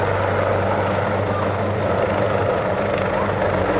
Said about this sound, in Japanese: 海上保安庁のヘリコプターが展示飛行に来ました。